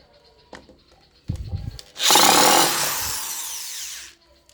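An I Bell SD 12-75 electric screwdriver unscrews a screw. A few knocks are followed by a loud, close motor whir that runs about two seconds and then stops abruptly.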